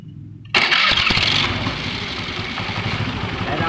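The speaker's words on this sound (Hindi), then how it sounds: "इसमें सेल्फ दबाने पर एक अजीब अलग सी आवाज़ आ रही है दोस्तों।" Honda Activa scooter with a slightly bent crankshaft, turned over on the self-starter: a sudden loud start-up into a rough, buzzy engine running up close, steady to the end.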